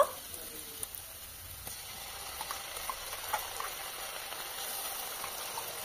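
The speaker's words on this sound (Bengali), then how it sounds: "ভাজা হয়ে যাবার পর আমি আদা রসুন বাটাটা দিয়ে দেব।" Ginger-garlic paste sizzles among lightly fried chopped onions for a chicken curry, a soft, steady crackle with small spatter pops and a few faint stirring clicks, no voices.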